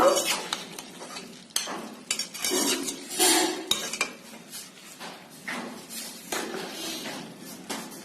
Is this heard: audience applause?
no